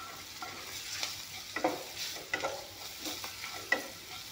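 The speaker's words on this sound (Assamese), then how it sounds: "এতিয়া এইখিনি ধুনীয়াকৈ ভাজি ল'ম" Powdered spices, including turmeric and cumin, fry quietly in a pan and are stirred in repeated scraping strokes over a soft sizzle, with no one speaking.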